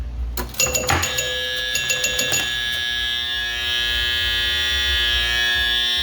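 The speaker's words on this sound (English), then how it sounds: "There is a buzzer in there." A Bally Old Chicago pinball machine rattles off a quick burst of chime-like hits, then its buzzer sounds as a loud, steady electric drone that holds to the end.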